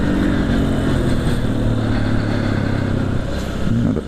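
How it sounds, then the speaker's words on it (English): A dirt bike engine drones loud and close while being ridden on a trail, holding a steady, gravelly roar with slight shifts in pitch. "Okay, now we can open the bike up."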